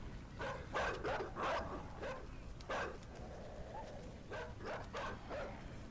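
Dogs barking in the game Inside, several sharp barks in bursts, moderately loud, with a pause in the middle before another run of barks.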